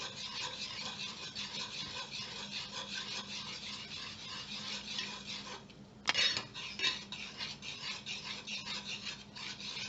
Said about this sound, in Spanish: Vamos a revolver hasta que la mezcla quede homogénea.